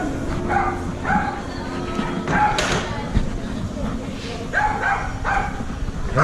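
A dog in El Retiro, Colombia barks in several short bursts, nearby and fairly loud, mixed with people talking.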